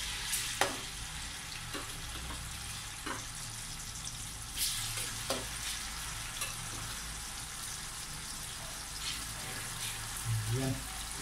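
Banana slices sizzle in hot oil in a pan, a steady low frying hiss with faint clicks and small pops throughout.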